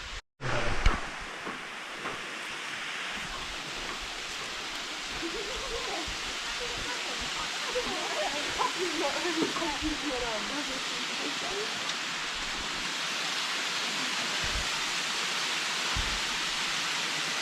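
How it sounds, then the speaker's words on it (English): Steady broadband rush of an upper waterfall in New South Wales fills the scene, constant and fairly close, with faint birdsong flickering over it. "So that one was the upper waterfall."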